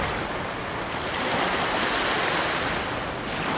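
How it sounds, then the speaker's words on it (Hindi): Storm-tossed sea in a film scene, a loud continuous roar of crashing waves and rushing water with steady wind-like noise throughout, no voices. "ये समुद्री तूफान है।"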